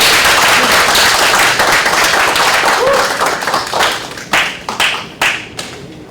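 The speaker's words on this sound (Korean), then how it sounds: "한성훈 교수님을 큰 박수로 맞이해 주시기 바랍니다" An audience at a conference claps to welcome a professor's keynote lecture, a dense wash of applause that thins into a few separate, louder claps near the end.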